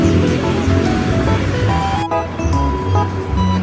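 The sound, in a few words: flowing stream water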